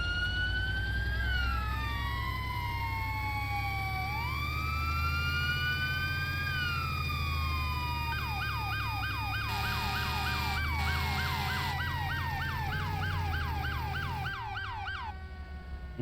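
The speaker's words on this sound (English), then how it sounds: "I've always hated the phaser siren. I always preferred doing yelp and wail" An emergency medical vehicle siren cycles through a long rising and falling wail, then switches to rapid yelp sweeps, loud and continuous over engine rumble, cutting off near the end.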